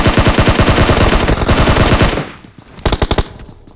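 Automatic gunfire from PUBG Mobile rattles in a loud rapid burst for about two seconds, then pauses before a shorter burst of several quick shots.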